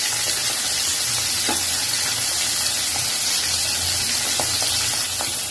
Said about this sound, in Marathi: अशी फ्राय केला का मच्छी ढकली चांगले शिजते आणि मस्त कडक होतात.